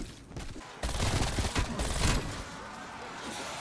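A MAC-10 submachine gun in the Cold War Zombies video game fires a rapid burst of about a second and a half, loud and close, followed by a quieter lingering tail.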